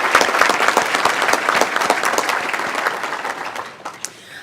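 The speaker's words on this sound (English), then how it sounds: "Can we please have a round of applause for our sponsors?" Audience at a regional chamber ATHENA Award luncheon claps loudly for the sponsors, a dense, steady roar of many hands that holds for several seconds, then thins out and fades, with a few scattered late claps at the end.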